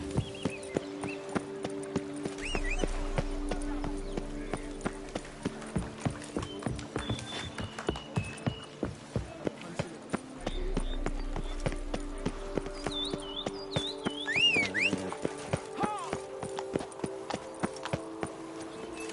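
Roach the horse gallops in a video game, hooves clip-clopping in a fast steady rhythm on hard ground for the whole stretch, close and clear, with brief bits of speech and ambient game sounds beneath.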